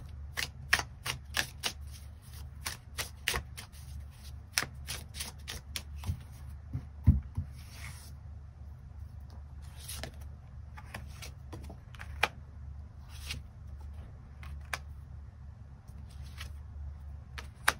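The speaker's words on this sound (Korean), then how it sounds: "추가 카드 뽑아보도록 하겠습니다" Tarot cards being shuffled and drawn, a long series of crisp, sharp card snaps and flicks in uneven bursts over a low steady background hum, close and fairly quiet.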